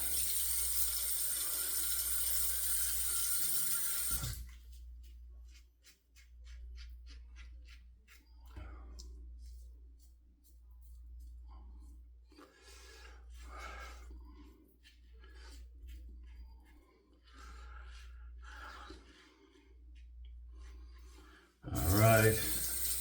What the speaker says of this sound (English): Rinse the razor out.